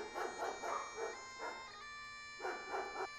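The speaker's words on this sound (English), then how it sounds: "That's a fucking dog!" A dog barks repeatedly in short bursts, several close barks in a loose rhythm, with a steady tonal hum underneath.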